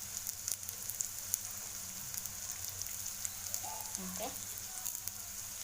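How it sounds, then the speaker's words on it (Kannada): Chopped onions sauté in a pan with a soft, steady sizzle. Light crackles sit beneath a brief spoken word. "ಸ್ವಲ್ಪ ಈರುಳ್ಳಿ ಹಾಕ್ಕೊಂಡು ಸ್ವಲ್ಪ ಹಸಿ ವಾಸನೆ ಹೋಗೋವರೆಗೂ ಸ್ವಲ್ಪ ಬಾಡಿಸ್ಕೋಬೇಕು"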